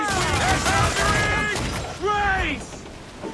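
Ship cannons in Assassin's Creed IV fire amid naval battle chaos, with sharp booms and crashing impacts over a noisy battle background while voices shout throughout.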